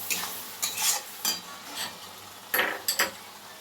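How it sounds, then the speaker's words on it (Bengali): Spice paste sautéing in oil for a pointed gourd and prawn dish, with a soft steady sizzle and a series of distinct spatula scrapes and stirs against the pan, some in quick pairs. "সব দিয়ে এবার আমরা কষিয়ে নেব"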